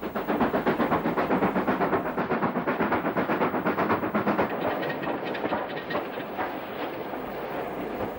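Steam train hauled by Black 5 locomotive 45020 on an RCTS railtour to Culdon Low stone quarry, Staffordshire, in the 1960s: steady rhythmic clatter of carriage wheels over rail joints, loud and close, running continuously with a slight easing partway through.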